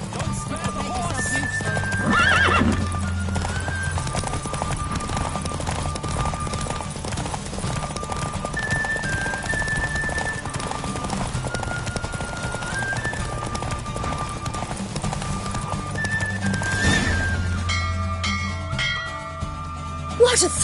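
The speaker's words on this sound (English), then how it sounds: "Giddy up. Don't spare the horse." Hooves clip-clop steadily through a gallop while a horse neighs loudly several times, with a busy game-style music and effects bed underneath.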